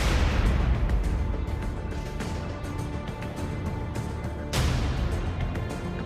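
Diwali firecrackers bursting across Delhi, a dense continuous roar of distant crackling blasts with a sharper, louder burst partway through.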